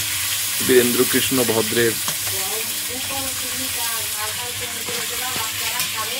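Fish and potatoes frying in hot oil in a kadai, a steady sizzle running the whole time, with occasional stirring and a voice speaking briefly early on.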